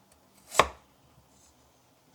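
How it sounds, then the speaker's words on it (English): A single sharp knife chop through carrots on a cutting board while preparing a Dan Dan chicken noodle stir-fry, one clear strike followed by near silence and a faint tap at the end. "now that I start chopping, I think I might do matchstick type, like smaller for this."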